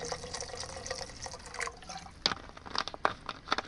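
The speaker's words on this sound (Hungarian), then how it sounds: "majd még felöntöm vízzel" Water poured into a soup pot holding bay leaves and other ingredients, with splashes and drips that turn into sharper, louder spatters and clinks toward the end, close by and quiet, with no voices.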